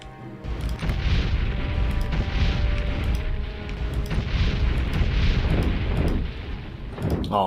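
A fire spell being cast in The Elder Scrolls III: Morrowind, heard as a loud, sustained roar of booming, crackling bursts that keeps going for several seconds before fading near the end.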